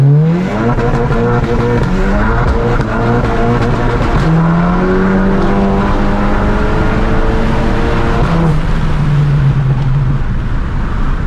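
A tuned Golf 7 GTI Performance with Stage 3 tuning accelerates hard through several gears, its engine note climbing steadily and dropping at each shift, loud and close throughout with no voices.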